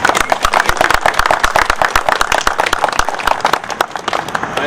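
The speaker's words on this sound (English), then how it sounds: "I know we probably should save our applause to the end, but that was magnificent, Cadet Ross." Audience members at a 9/11 memorial ceremony in Fishkill clap loudly and close by, a dense burst of individual claps that thins slightly toward the end.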